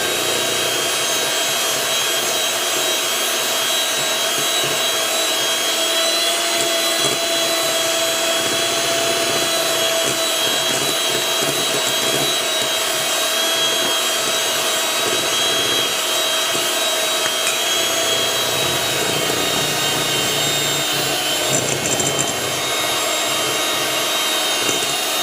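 An electric mixer whirs steadily while blending banana bread batter, a continuous motor drone with a faint high whine that runs on unchanged without talk.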